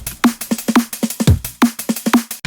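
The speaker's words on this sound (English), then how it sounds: "Now here I have a drum loop that sounds like this." A steady drum loop with punchy kicks, snappy snares and tight hits in a quick repeating groove, loud and up front.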